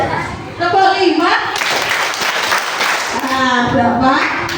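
Primary school children in a classroom game clap briefly in a burst between an adult's spoken calls, a short spell of group clapping framed by talk.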